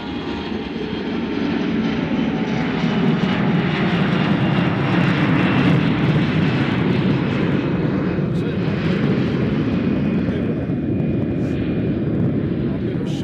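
An airplane at Nashville International Airport roars loudly and steadily across the whole stretch as the engine noise swells and holds, with a faint voice underneath.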